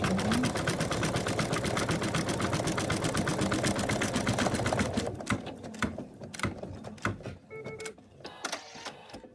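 An embroidery machine stitches a Mr Ted appliqué with a fast, steady mechanical chatter for about five seconds, then slows into scattered clicks and short whirs as it stops.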